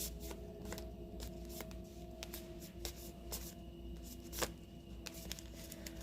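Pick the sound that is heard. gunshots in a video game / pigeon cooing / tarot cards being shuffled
tarot cards being shuffled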